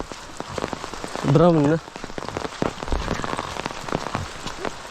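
Steady rain patters on a surface throughout, heavy and close, beneath talking voices and a brief warbling vocal sound.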